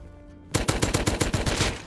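A rapid burst of automatic AK rifle fire in the survival video game Rust starts abruptly after a short quiet, with about ten sharp, loud, evenly spaced shots and no talking.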